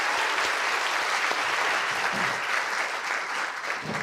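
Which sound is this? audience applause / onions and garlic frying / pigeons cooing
audience applause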